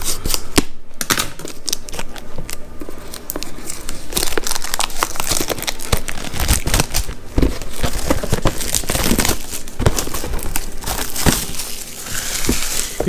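Crinkling plastic and snipping scissors open the shrink-wrapped PS4 packaging of Call of Duty: Modern Warfare (2019), a dense run of close crackles, rustles and sharp cuts lasting throughout without talk.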